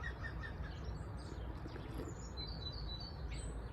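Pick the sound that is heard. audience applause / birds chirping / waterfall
birds chirping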